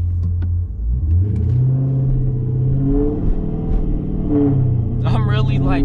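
A car drives through a city neighborhood at night, its engine rumbling steadily and rising briefly in revs, heard from inside the cabin under people talking.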